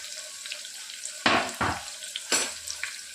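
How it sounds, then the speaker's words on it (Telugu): Sliced onions and green chillies hit hot oil in a pan, giving two sharp bursts of sizzling that quickly settle into a steady frying hiss, followed by another loud surge of sizzle and then a softer, continuing crackle. "ఇప్పుడు వీటిని బాగా ఫ్రై చేసుకోవాలి."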